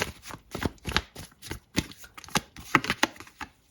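Tarot cards being shuffled by hand, a fast run of crisp riffling flicks and soft slaps repeated through the whole stretch, close and clear with no voices.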